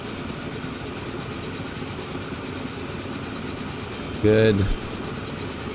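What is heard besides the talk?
train pulling into station in video game Transport Fever 2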